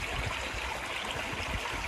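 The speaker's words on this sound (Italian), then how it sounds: "Questa è la poca corrente rimasta del torrente Elvo," The last shallow flow of the Elvo stream in northern Italy, its bed nearly dry from the extreme 2022 drought, gives a steady close rushing and trickling of water, continuous and alone.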